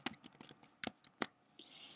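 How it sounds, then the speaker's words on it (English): Light keyboard typing while entering a Java string in the Eclipse editor, a quick patter of close clicks over about two seconds. "So I'm just going to type in my string"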